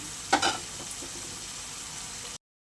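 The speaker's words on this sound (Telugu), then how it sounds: "ఇవైతే ఫ్రై అవనివ్వుతాం చూడండి ఉల్లిపాయలు అయితే బాగా ఫ్రై అయినాయి కదా" Onions frying in a pan for a Godavari-style prawn and raw mango curry, a steady close sizzle with a brief louder burst of crackling near the start, then cutting off abruptly.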